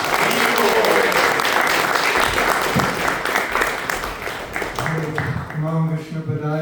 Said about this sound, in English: let's give Mahatma Prabhu a nice big round of applause.